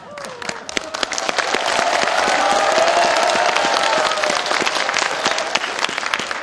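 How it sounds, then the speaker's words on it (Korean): A political rally crowd at a joint campaign speech event in Daejeon applauds loudly. Dense clapping swells into a sustained roar with cheering voices, holds steady, then eases slightly as individual claps stand out. "박수 소리가 부족한 것 같습니다."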